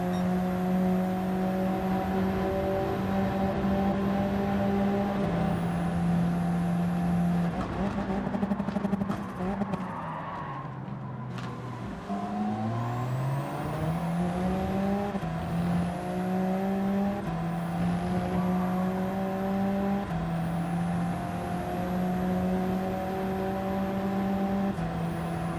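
Race car engines in the video game Gran Turismo 7, with steady high engine drones that shift through gear changes, dip and then climb again as the cars accelerate, loud and continuous with no talking.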